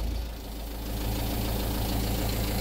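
A 4D34 four-cylinder turbo diesel in a 2000 Mitsubishi Fuso FE-SP truck idles while warming up, a steady close, loud low rumble with an even knocking pulse and no talk.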